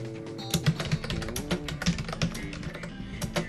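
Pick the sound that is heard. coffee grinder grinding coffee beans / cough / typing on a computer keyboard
typing on a computer keyboard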